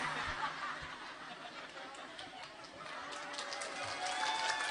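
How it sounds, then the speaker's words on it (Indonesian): Faint, steady clapping and crowd murmur from a congregation at an Isra Mi'raj religious sermon, a continuous wash of distant applause with some chuckling. "Ngapa tepuk tangan?"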